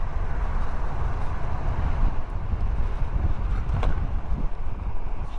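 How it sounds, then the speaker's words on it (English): Wind buffets an AON Glide Max electric scooter during a ride, a loud, steady, low roaring rush that continues throughout with no voices. "It is a little bit windy."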